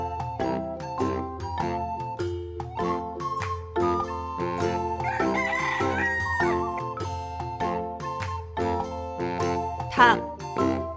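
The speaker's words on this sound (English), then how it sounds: "chicken" A rooster crows briefly over a gentle, bell-like musical tune that plays steadily, with a second short call near the end.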